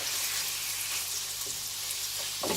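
Chicken sizzling in butter and oil in a pan, a loud, even, continuous hiss with a faint low hum beneath and a small clatter near the end.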